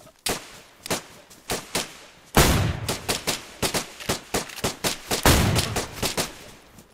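Gunfire in the video game DayZ, a rapid volley of close, loud shots in a steady rhythm with a few heavier blasts mixed in, about twenty reports.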